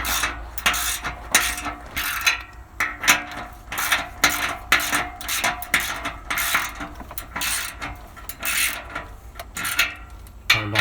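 A ratchet tightens muffler clamp bolts on a 1994 Astro van, clicking in steady, close bursts with brief pauses as the bolts are drawn down bit by bit.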